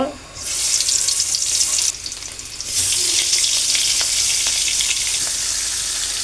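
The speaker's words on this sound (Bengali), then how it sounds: "ইলিশ মাছ ভাজার জন্য কড়াই বসিয়ে দিয়েছি আমি এখানে আমি তেল দিয়ে দিয়েছি তেলটাও গরম হয়ে গেছে এখন আমি মাছগুলো ভেজে নেব" Loud, continuous sizzling of hilsa fish frying in hot oil in a karahi, with a brief dip in intensity midway before the hiss returns, and light clinks and spatters throughout.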